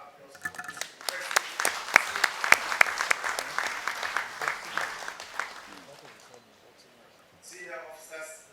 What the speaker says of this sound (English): Please, I request to give a round of applause for this request.